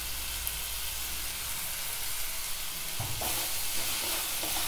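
Vegetables for pasta stir-frying briefly in hot oil in a pan, a steady close sizzle with a few scraping stirs near the end.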